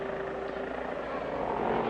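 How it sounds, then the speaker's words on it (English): A cartoon plane's propeller engine drones steadily as it takes off at a race track, a loud, continuous hum that swells slightly toward the end. "your attention is directed to the plane taking off"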